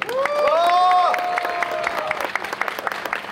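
Audience applause at the opening ceremony of the 2024 Suseong Alpha Digital Week in Daegu: a burst of clapping from a seated crowd under a loud sustained musical fanfare, tapering into scattered claps.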